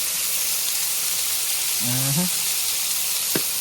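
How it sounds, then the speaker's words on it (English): Steady sizzling hiss of burgers frying on a hot flat top, with a brief clatter of utensils partway through and a short sharp tap near the end. "Look at these burgers sizzling away."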